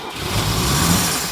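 A Mercedes W113 280SL Pagoda's engine fires up and runs steadily in a shop right after a starter motor repair, a loud continuous mid-pitched rumble with no exhaust system attached.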